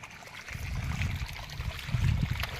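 Rainwater pours and streams heavily during a downpour in a Gujarat village, a continuous rushing, splashing wash that swells louder near the end, with no voices.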